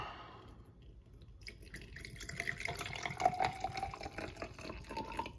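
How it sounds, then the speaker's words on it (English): Vinegar is poured into a Temu microwave steam cleaner, a close trickling, splashing liquid stream that gets louder as the pour goes on. "So let me go ahead and pour it there."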